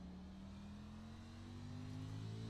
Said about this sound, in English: You can hear the 38 car Cam Patterson there saving fuel on the straightaway